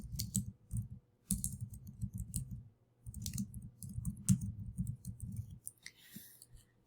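Mouse clicks during setup of a Google Forms quiz, sounding as scattered sharp taps in quick bursts with short pauses, close and fairly soft, with no talking.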